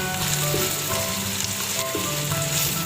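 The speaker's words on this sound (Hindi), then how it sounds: "ये हमारे प्याज फ्राई हो रहे हैं गोला कबाब के लिए" Onions for beef gola kabab fry in hot oil, a dense, continuous loud sizzle with faint stirring, heard alone without speech.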